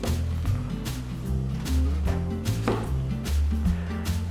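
A knife chops an unpeeled potato into wedges on a cutting board, with a series of sharp, close knocks at an uneven rhythm over a low background hum.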